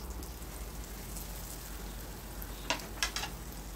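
Chicken pieces fry in olive oil in a pan while making butter garlic chicken, giving a steady, close sizzle throughout with a few sharp clinks near the end.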